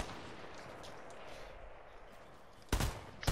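Gunfire in the video game Fortnite: a dense, noisy in-game battle bed with a loud burst of shots near the end, then another sharp report right at the close.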